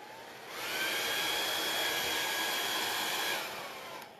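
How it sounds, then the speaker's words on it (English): A hair dryer on its cool setting blows steadily on wet paint on pine wood, a loud, even whirring rush that spins up, holds for a few seconds, then winds down. "the reason I'm using cool air on my hair dryer is because this is pine"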